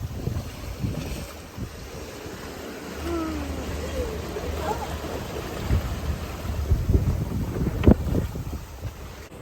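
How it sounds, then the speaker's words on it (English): Wind buffets the microphone on a sailboat off the south coast of France as waves slap and wash against the hull, a steady rough noise with a few sharper splashes building toward the end. "Waves are picking up a bit."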